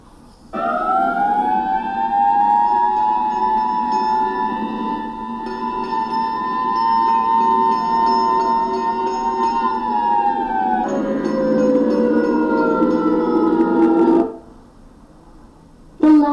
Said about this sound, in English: The fire engine for this sound?